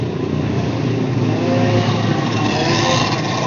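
Race car engine roaring loud and sustained under hard acceleration during a heat race, a continuous high-revving drone with no break.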